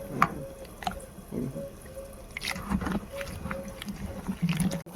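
Soaked soybean chunks squeezed by hand over water, giving soft wet squelches, drips and trickles close by, with light background sounds and some voice in the mix.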